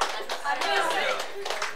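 An audience at a numerology graduation ceremony breaks into a burst of hand clapping, with voices talking over and around the applause.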